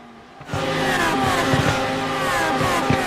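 Lamborghini Super Trofeo race cars cross the finish line at Interlagos, engines roaring loudly past in quick succession with rising and falling pitch as each car sweeps by after a brief quiet start.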